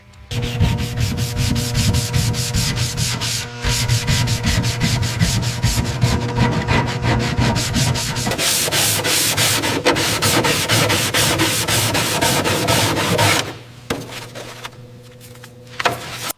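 Steady, continuous abrasive rubbing of sanding on a painted panel of a toy train being restored, loud and close, running almost without pause before easing off near the end.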